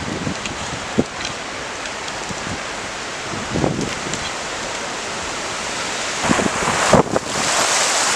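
Ocean waves crashing in a continuous roar of surf mixed with strong wind buffeting the microphone, with a few louder surges and gusts, no talking.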